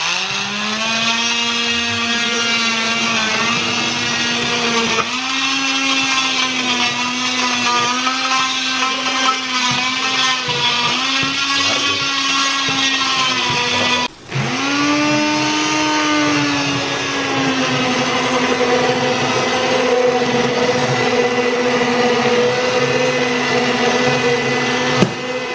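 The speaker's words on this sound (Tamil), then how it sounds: "ஸோ இந்த பிளெண்டரை வந்து ஸ்டிக் பிளெண்டர்னு சொல்லுவாங்க, இமோஷன் பிளெண்டர்னு சொல்லுவாங்க." Immersion stick blender whirring steadily as it purees pumpkin soup, a loud, continuous motor drone with a shifting pitch as the blade works through the mixture, briefly cutting out and restarting partway through.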